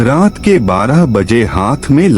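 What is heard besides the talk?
No everyday noises stand out.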